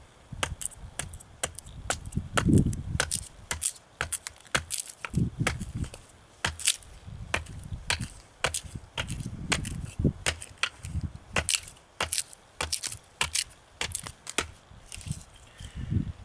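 A Japanese chisel-grind garden machete (nata) chopping wood, with a long series of sharp, close cracking strikes at an irregular but steady pace, interspersed with low thuds.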